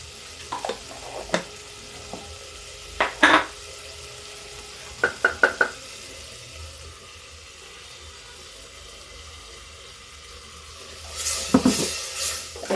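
Spices including panch phoran and sabzi masala frying in a pan, with a low sizzle under intermittent metal spoon scrapes and clanks, then a louder burst of hissing and stirring near the end, close and with no voices.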